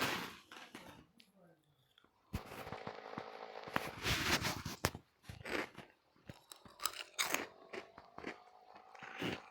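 Close, crisp crunching as someone bites and chews corn puff snacks in irregular bursts, with quiet moments in between.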